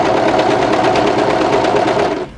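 An overlocker serges a seam on a waterfall drape coatigan with a loud, close, fast buzzing whir that runs steadily and then winds down at the end.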